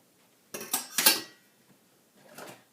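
A whisk works pumpkin pie filling mixed with brown sugar in a bowl: a few quick clattering scrapes close by, a pause, then another softer burst of whisking.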